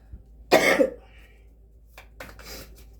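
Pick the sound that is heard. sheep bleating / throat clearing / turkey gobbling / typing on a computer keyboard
throat clearing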